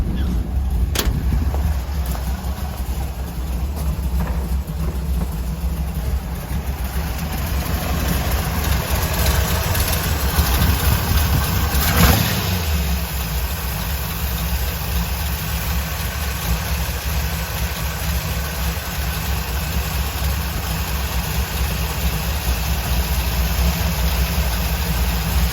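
A 1955 vehicle's engine idling after sitting dormant for six months, running low and steady throughout with a constant rumble and faint mechanical noise, no talk.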